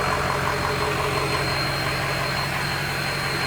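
A 2006 Ford F250 with the 6.0 Power Stroke diesel idles steadily at close range, a loud, even rumble with a faint rattling clatter and a constant hum, and no talk over it.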